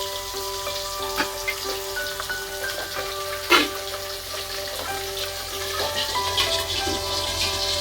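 Pabda fish fry in oil in a covered pan with a soft, continuous sizzle. Scattered sharp pops and spits crackle irregularly beneath the lid, fairly quiet overall.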